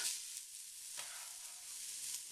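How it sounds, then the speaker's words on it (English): Garlic and onions sizzling in hot olive oil in a pan, a soft, steady frying hiss with a slight stir partway through. "I'm just going to add this garlic and these onions right to this pan"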